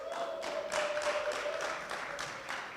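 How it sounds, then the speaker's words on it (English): Audience at a YSAU closing ceremony cheering and applauding, a faint, distant wash of clapping with a steady high whistle-like tone running through it, no speech. "Can I get a cheer for those that are ready?"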